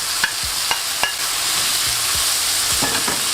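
Tomatoes tossed into a pan of sautéing onions and garlic, a soft steady sizzle broken by a few sharp clinks and scrapes of a utensil stirring, close and without talk.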